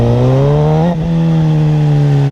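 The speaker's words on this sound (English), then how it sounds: "You can hear me like getting up to a point where I pretty much let off my throttle and then the bike goes quiet." A motorcycle engine holds a loud, close, steady throttle drone during a footbrake wheelie, dipping briefly before resuming, then cutting abruptly to silence as the throttle is released.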